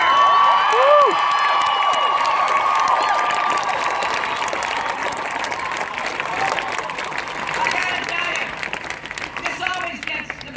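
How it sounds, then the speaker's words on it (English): A large crowd at a Hillary Clinton campaign rally at the University of Pittsburgh applauds and cheers loudly, with whoops rising above the steady clapping, which slowly fades. "The biggest applause ever."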